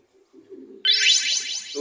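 A racing pigeon calls with a bright, rising chirp that cuts in suddenly after soft low murmuring, close and fairly loud.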